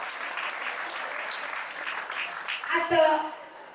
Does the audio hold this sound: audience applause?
yes